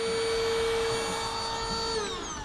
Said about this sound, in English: you can also plug in your blender.